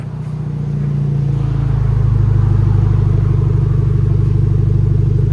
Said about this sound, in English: Nice idle. It's clean idle. It's not too loud.